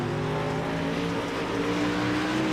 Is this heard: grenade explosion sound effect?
no